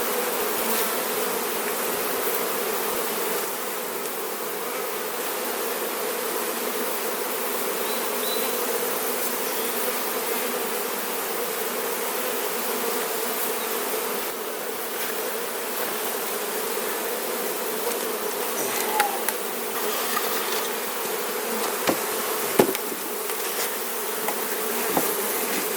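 Honey bees buzz thickly around an open flow hive, a dense steady drone close by that holds throughout with a few louder passes near the end.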